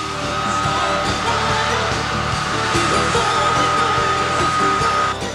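A hair dryer runs steadily at close range inside the Spodek arena in Katowice, plugged into a 230 V socket beside the seats, a constant loud whirring roar that holds for several seconds with no speech.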